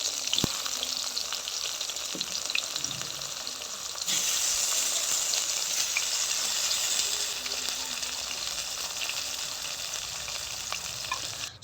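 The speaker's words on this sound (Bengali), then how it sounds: "বেগুনগুলো সবগুলো দিয়ে দেবো, দিয়ে খুব ভালো করে ভেজে নেব।" Eggplants fry in hot mustard oil for a Bengali begun bharta, giving a loud, steady sizzle that swells when more pieces are added, with occasional stirring clinks.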